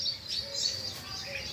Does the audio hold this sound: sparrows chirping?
yes